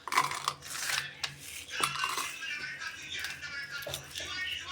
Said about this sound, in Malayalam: നമുക്കിതിലേക്ക് ആദ്യം നമ്മുടെ വറ്റൽമുളക് ഇട്ട് കൊടുക്കട്ടോ.